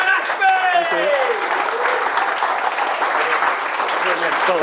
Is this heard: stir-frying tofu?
no